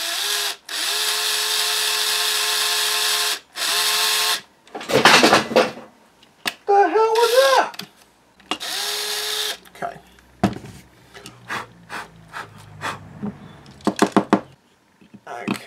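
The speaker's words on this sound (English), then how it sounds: "Okay, I'm just going to enlarge this hole." A power drill enlarges a hole in a foot pedal housing for a TIG welder switch, two loud steady whirring runs followed by revving bursts, clicks and handling clatter up close.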